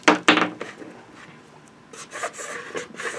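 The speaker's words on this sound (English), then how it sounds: "mark where I need to trim it down" Marker tip rubbing and scraping across a helmet liner for a Rogue One rebel soldier prop helmet, marking it for trimming; a few quick, close scratchy strokes at the start, a pause, then more rasping strokes.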